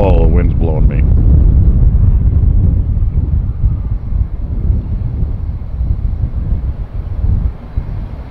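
Strong gusty wind buffets the microphone at Tampa airport during crosswind conditions, a loud, continuous low rumble that swells and eases, with a brief voice at the start.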